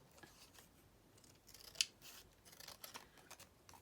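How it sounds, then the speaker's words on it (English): Scissors snip through thick card cut from an old photo packet, a quiet run of short rustling cuts with one sharper, brighter snip near the middle, no voices. "I'll just cut that off, and what I'll do is I'll just trim it down a little bit."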